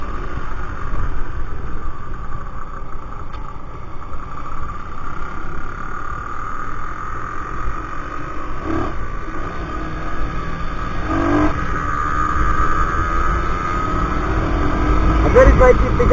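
A Zxmco KPR 200cc motorcycle engine drones steadily as it rides along, with wind noise and a low rumble that builds slightly toward the end.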